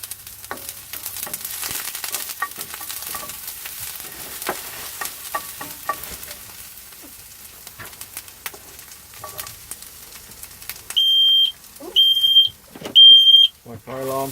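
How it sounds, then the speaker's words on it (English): A home kitchen smoke alarm goes off while vegetables fry, giving three loud, steady high beeps near the end after a stretch of sizzling, stirring pan noise with occasional voices. "My fire alarm, sorry."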